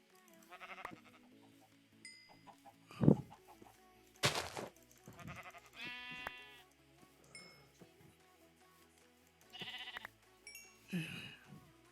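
Sheep in the Minecraft video game bleat repeatedly, several separate near bleats spread across the stretch between sharp game clicks and hits, with no voices.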